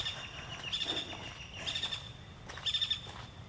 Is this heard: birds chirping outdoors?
yes